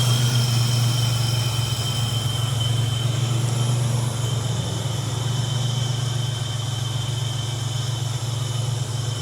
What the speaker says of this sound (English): you got that V6 turbo